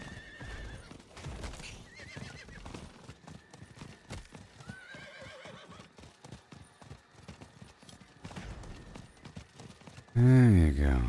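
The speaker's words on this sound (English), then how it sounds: "I'm gonna ride my horse." A horse in the Diablo 4 video game clip-clops along at a steady rhythmic pace, with a neigh partway through and a loud whinny at the end, while a person talks over the game sounds.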